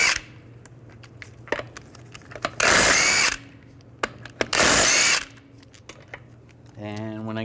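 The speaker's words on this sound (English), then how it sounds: "I'm going to remove the front wheels using a 17mm socket. Take the lug nuts off," Power tool, likely an impact wrench, spinning off lug nuts with a 17mm socket on the front wheel of a 1998–2010 Volkswagen Beetle; two loud bursts of about a second each, close by, separated by quieter workshop sounds.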